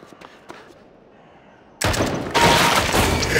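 A burst of gunfire from a first-person shooter landing a headshot: a faint lead-in, then a sudden loud blast with a second surge right after, ringing on densely to the end.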